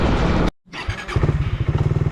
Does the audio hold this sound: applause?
no